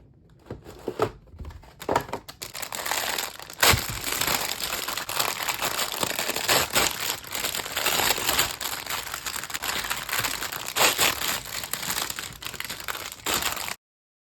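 Plastic packaging of an HG Gundam Windam model kit being opened and handled, crinkling and rustling close up in bursts that become fairly continuous, with a few sharper crackles.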